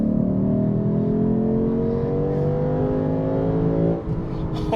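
A 2024 Lexus IS 500 V8 accelerates hard in manual mode, its engine note climbing steadily and loud from inside the cabin before easing off briefly near the end.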